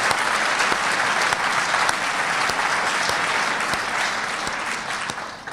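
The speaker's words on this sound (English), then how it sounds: "thank all of the panelists and give them a round of applause" An audience at a debate on humanely slaughtering meat gives the panelists a round of applause: steady, full crowd clapping that tapers off slightly at the end.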